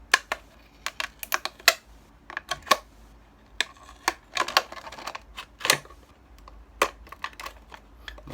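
Scissors cutting a clear plastic PET bottle into a rounded shape, a close series of sharp irregular snips and crunchy clicks at an uneven pace.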